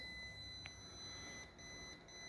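A voltage tester held near a live wire gives high, steady electronic beeping tones that ring continuously over a low background hum, with one brief brighter chirp.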